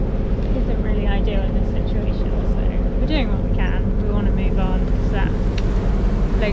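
A sailboat motoring under engine power on passage toward Arklow, its diesel drone steady, loud and close throughout, with faint voices now and then beneath it.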